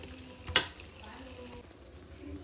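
Eggplant slices fry in oil in a pan, giving a soft steady sizzle with a single sharp clatter near the start, quiet and close with no talk.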